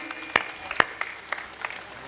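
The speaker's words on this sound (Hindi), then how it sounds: "एक बार पूरी समिति के लिए जोरदार तालियां आपसे मैं मांगती हूँ" A few scattered, separate hand claps ring out at a Hindi poetry gathering, sparse and uneven, with two sharper claps early on and softer ones trailing after.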